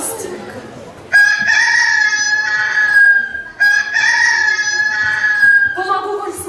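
A rooster crows loudly and close by, two long drawn-out calls one after another, then a third call starting at the end, with no talking over it.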